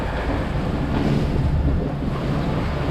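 Wind and waves at sea aboard a sailboat motor sailing offshore from Fort Pierce, Florida, with the wind on the nose; a steady, loud broadband rush of wind buffeting and surf runs without a break.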